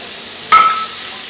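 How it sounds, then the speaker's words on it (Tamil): Onions dropped into hot oil in a pan for a coconut, mango and pea sundal, a sudden close clink and burst of sizzling that settles into a steady frying hiss. "இப்போது நம்மளோட வெங்காயத்தை தட்டிக்கலாம்."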